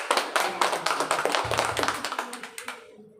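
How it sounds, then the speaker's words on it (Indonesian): An audience claps at a community simulation event, a burst of many hands clapping together that holds fairly steady and then fades out toward the end. "Aplaus dulu untuk Natula."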